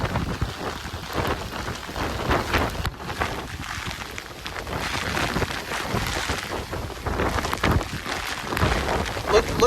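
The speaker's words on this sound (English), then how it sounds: "It's pouring." Heavy rain pours down during Hurricane Milton, a loud, steady dense wash with gusty wind near gale strength, continuous and close for the whole stretch without a break.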